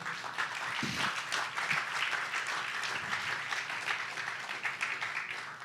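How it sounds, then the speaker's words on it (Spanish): Church congregation at a Good Friday service applauding together, a steady, even wash of many hands clapping throughout, moderately distant and fairly quiet, with no talk over it. "Denle un aplauso al Señor."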